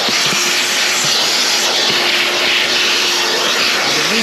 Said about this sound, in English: Vacuum that right up.